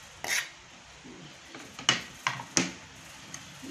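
Anchovy kinilaw being mixed with onion in a bowl, giving a few sharp utensil clinks and scrapes against the bowl, spaced irregularly over a quiet background.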